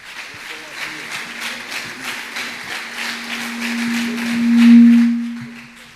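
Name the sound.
congregation applauding loudly for the apostle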